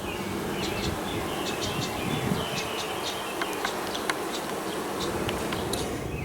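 Bees swarming around a beehive honey super set out in the hot afternoon sun of a New England garden, a dense continuous buzzing with individual bees droning past close to the microphone.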